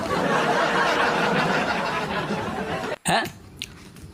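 A crunchy Everest grape is bitten with one sudden, sharp crunch, cutting through a steady bed of background noise and followed by a faint chewing sound.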